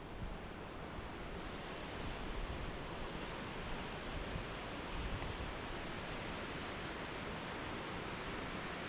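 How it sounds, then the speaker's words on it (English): A steady, broad rushing roar of a waterfall, constant and unbroken, heard from some distance atop a high steel bridge with wind mixed in. "Look at that waterfall down there."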